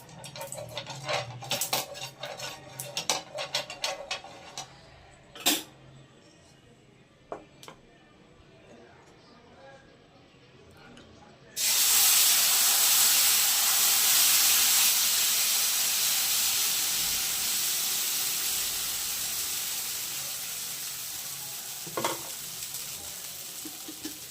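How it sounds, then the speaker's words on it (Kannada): Dosa batter and oil hit a hot griddle with a sudden loud sizzle that holds steady and slowly fades, after a stretch of clinking utensils and scattered kitchen knocks. "ತಳಕ್ಕೊಂದು ಸ್ವಲ್ಪ ಎಣ್ಣೆ ಹಾಕ್ಕೊಂಡು ಆಮೇಲೆ ದೋಸೆ ಹಾಕ್ಕೊಳ್ಳೋಣ"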